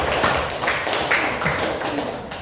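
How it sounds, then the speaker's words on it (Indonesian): Classroom applause for a student group during a lesson, a dense, steady patter of many hands clapping together, loud and close, holding evenly for the whole stretch with a few sharper taps standing out. "Kita beri aplaus"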